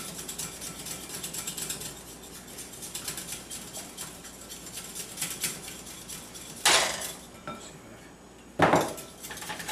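Eggs being whisked in a bowl for pots de creme, with a rapid, continuous metallic clinking of whisk against bowl, close, broken by two louder knocks near the end.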